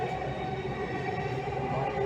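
A Delhi Metro Violet Line train runs between stations, producing a continuous steady rumble and rolling drone from inside the car, with a faint high squeal near the end and no talking.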